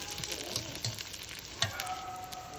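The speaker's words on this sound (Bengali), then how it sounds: "এখন নেড়ে চেড়ে মশলাটার সাথে আবার একটু মিশিয়ে নিচ্ছি।" Dried fish with salt and ginger garlic paste is stirred in a pan, a soft, low sizzle with a few scraping strokes of the spoon, quiet and close, no voices.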